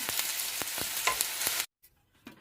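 Fried okra crackles and sizzles in a frying pan as it is scooped out, with a few sharp scraping strokes over steady frying that cuts off abruptly, followed by faint clinks.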